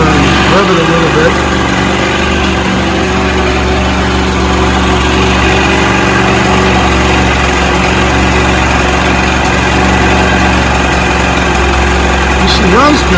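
A 1973 Mercury 40 hp Model 402 outboard motor runs steadily and close by with a loud, constant engine drone, revving slightly for the whole stretch, its gear previously slipping out of forward.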